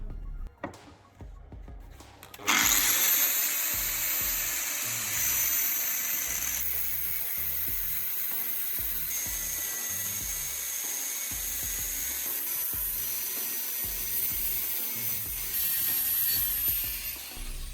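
An angle grinder cuts a slot into an L-shaped piece of metal. The clip opens with a few quiet knocks, then a loud, close, sustained high-pitched grinding whine that shifts in tone slightly as the cut goes on.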